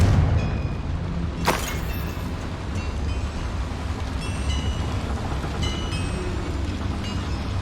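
In the Hogwarts Legacy video game, a Confringo fire spell bursts inside a mine near a boiler, landing as one sharp blast over a continuous deep mechanical rumble that carries on at a loud, steady level.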